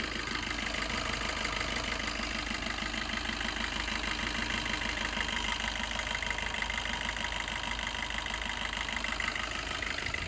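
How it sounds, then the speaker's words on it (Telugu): A 2020 Maruti Swift Dzire VDi diesel engine idles with a smooth, even, continuous beat, heard alone at low volume with no voices. "ఇంజన్ బీటింగ్ కూడా చూడొచ్చండి, స్మూత్గా ఉంది"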